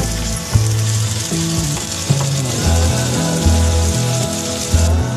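Peas and other vegetables fry loudly in a home kitchen pan, with a constant hissing sizzle broken by scraping, clattering stirs at irregular intervals, close up, and no talking.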